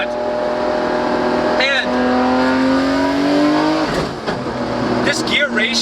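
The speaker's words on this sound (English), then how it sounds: "That downshift, there's nothing replacing the metal to metal feel of a straight cut box." A Nissan R34 GTR with an OS Giken sequential straight-cut gearbox pulls hard through the gears with a rising whine, then blips on a downshift. Someone speaks over the engine.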